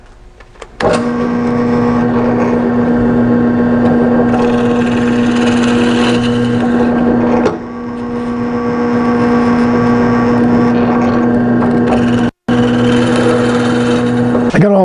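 An electric drill with a Craig 2-step bit and stop whines steadily as it bores through cherry wood, the motor running in long stretches with a couple of brief pauses.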